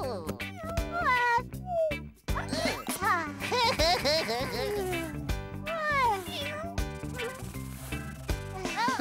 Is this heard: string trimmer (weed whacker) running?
no